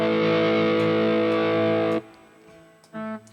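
Electric guitar through a high-gain amp model on a Mooer GE 1000, a sustained distorted chord ringing loud and thick, then cutting off to near silence before a short, quieter distorted chord near the end.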